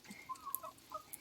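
Laying hens clucking in a coop: a few short, soft clucks spread across about a second, quiet and close, with no voices.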